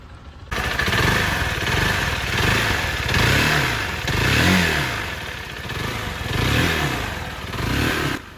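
A Zontes 350GK with a 348cc single-cylinder engine runs loud and close, its rough clattering thrum swelling and easing in repeated revs before cutting off at the end.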